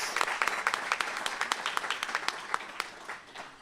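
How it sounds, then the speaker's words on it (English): An audience at an internal medicine resident graduation gives a round of applause for a graduate, with sharp, distinct claps from a modest crowd that slowly taper off. "please give her a round of applause"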